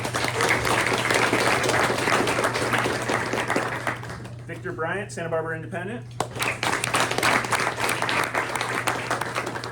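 Luncheon audience at a sports press event applauding local media, a dense burst of clapping that drops away briefly while someone speaks, then swells back to full, sustained applause.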